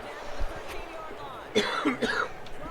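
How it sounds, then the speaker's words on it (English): A couple of short, rough coughs break out after a quieter stretch, with faint background noise and a muffled thump early on. "excuse me if you hear me coughing and stuff in the background"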